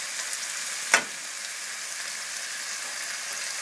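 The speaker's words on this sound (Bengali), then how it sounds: "2 থেকে 3 মিনিট ফ্রাই করার পরে আপনি সব মাশরুম, পেঁয়াজ, বেল পেপার এবং টমেটোটা দিয়ে দিন" Mushrooms, onion, bell pepper and tomato frying together for noodles give a soft, even sizzle. A single sharp utensil clack sounds near the start.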